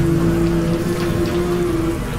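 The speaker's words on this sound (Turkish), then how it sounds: "Yumuşak bir yağmur yağıyor." Soft rain patters steadily on a bus pulling out of İzmir bus terminal in the evening, a dense wash of drops over a low, steady engine hum.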